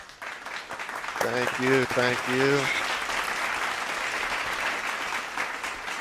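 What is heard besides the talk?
audience clapping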